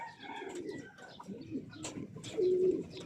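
Pigeons coo softly in low, rolling calls, with a few chirps and light background noise nearby.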